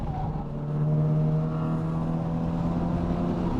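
FL5 Honda Civic Type R accelerating on the Virginia International Raceway track, heard from inside the car as a steady, rising engine drone that builds and holds loudly throughout, with no talking.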